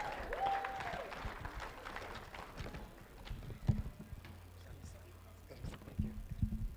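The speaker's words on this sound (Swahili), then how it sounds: "Mpigeni makofi tafadhali." An audience at a Nairobi County health event claps in a spread-out round of applause, moderately quiet and mixed with scattered knocks and room noise.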